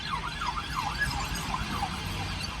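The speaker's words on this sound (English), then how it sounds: "But you can hear the sirens." Emergency vehicle sirens in Ghana yelp outdoors in rapid rising and falling sweeps, repeating several times over a steady background rumble of traffic, at moderate distance.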